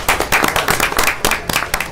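An audience claps at an event, a dense patter of hand claps that rises and falls in quick irregular bursts, close and fairly loud.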